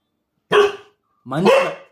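A dog gives two loud, close barks about three-quarters of a second apart, each a short harsh burst, against silence.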